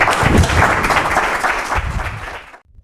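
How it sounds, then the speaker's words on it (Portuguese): A live audience breaks into applause at a book presentation in Barcelona, welcoming a speaker to the stage. The dense, steady clapping runs for over two seconds, then trails off into near silence. "me podemos recibir con un aplauso también"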